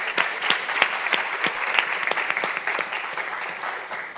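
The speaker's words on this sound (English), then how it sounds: "If we can give them a round of applause as well." A room full of people at a university lecture event claps for recognized guests, a continuous, fairly loud burst of applause with crisp individual claps popping through, easing slightly toward the end.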